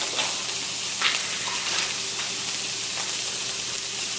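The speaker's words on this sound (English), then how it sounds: "Now it's time to add the cream cheese right on top of our onions and our bacon and our ham." Onions, bacon and ham sizzle steadily in a hot pan as cream cheese goes in on top, a close, continuous frying hiss with a few brief crackles and no voices.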